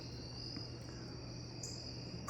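Crickets chirp outdoors at night in a steady, high, continuous trill, faint and distant over a low background hum, unbroken for the whole short stretch.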